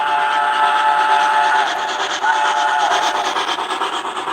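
An MTH model train runs along layout track, a steady continuous rolling and motor hum with a faint whistle-like tone, close and fairly loud with no talk.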